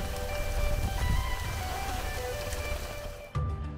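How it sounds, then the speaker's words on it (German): Rain falls steadily during a farm harvest, a dense, continuous patter close by with brief louder bursts, then a sudden shift near the end, with no talking. "Aber dann regnet es doch."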